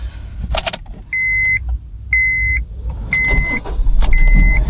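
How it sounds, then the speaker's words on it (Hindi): A Honda Civic FD1 is started with a key: door chime beeps and key jingles, then the starter cranks and the engine catches into a low idle rumble, close and loud. "तो अभी मैं आपको इस गाड़ी का स्टार्टअप दिखाता हूँ।"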